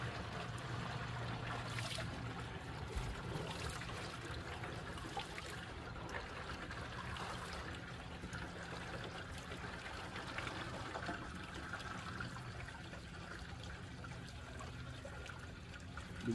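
Spring water gushes steadily into a container at an outdoor spring, a continuous close rushing and splashing that holds level throughout, with no voices.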